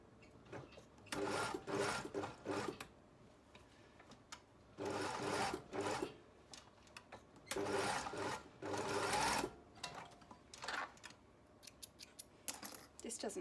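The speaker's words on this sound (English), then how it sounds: "I'm going to sew down and create a sort of Z shape or an N shape" A sewing machine stitching over overlapped pieces of elastic in short whirring bursts, close and steady, with pauses between runs.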